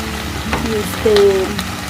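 A steady sizzle of mushrooms frying and browning in a hot pan after their water has cooked off, close and continuous, with faint crackles and a brief soft tone over it.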